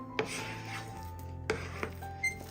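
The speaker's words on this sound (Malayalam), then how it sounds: "ഇത് നന്നായിട്ട് ഇളക്കി പാനിൽ നിന്ന് വിട്ട് വരുന്നത് വരെ ഒന്ന് ഇളക്കി കൊടുക്കാം." Semolina (rava) is stirred in a pan until it dries and pulls away from the sides, giving quiet scraping with a few light taps of the spoon on the pan, close and soft, with no voices.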